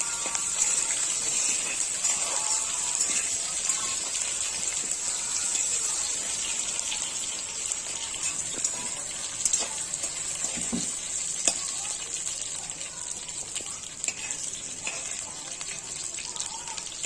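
Chopped sour mango frying in hot oil, a continuous hiss and sizzle with occasional stirring scrapes, close and steady throughout, with no talking.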